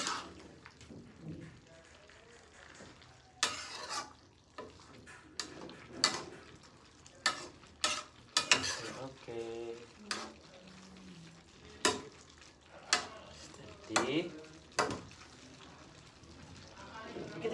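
Tempe frying in a pan with a spatula stirring it, giving a soft background sizzle broken by frequent sharp scraping and clinking strikes against the pan, while voices talk nearby at times.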